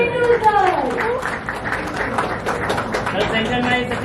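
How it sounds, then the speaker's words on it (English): Audience applause for cricketer Sachin Tendulkar at a semiconductor facility launch: a steady wash of many hands clapping, mixed with a voice and music at the start, continuing loudly throughout. "please give a huge round of applause for none other than Sachin Tendulkar"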